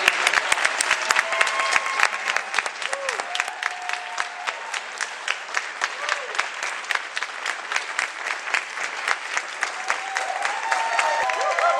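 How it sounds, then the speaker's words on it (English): Sustained audience applause at the Miss Indian North Carolina pageant, a dense steady clapping from a large crowd that carries on without a break across the whole stretch. "let's give them another big round of applause"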